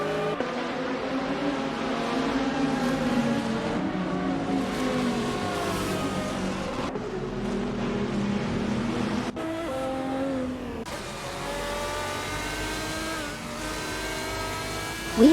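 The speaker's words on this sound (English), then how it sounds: "Let's have some fun watching these R-driven cars tear up the tracks." GT race cars driven by AI in a racing video game at the Mugello circuit roar continuously, with engines revving and shifting pitch as they pass, steady and loud throughout, with no speech.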